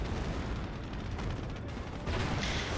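A sector artillery barrage in the strategy game Company of Heroes rumbles continuously, with dull distant booms and crackling impacts layered together, a sharper burst rising near the end.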